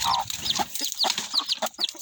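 A backyard hen clucks in short repeated calls, with a few higher chirps from other fowl nearby, close and fairly clear over light background noise.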